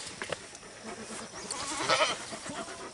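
Goats on a farm bleat several times, fairly faint and scattered, with a louder cluster of calls near the end over light background noise.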